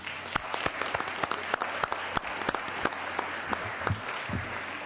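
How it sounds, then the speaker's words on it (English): Applause in a state Senate chamber, a moderate round of clapping with a few sharp, distinct claps standing out above the steady patter, heard at some distance. "I'd like to welcome them today if we can get a round of applause."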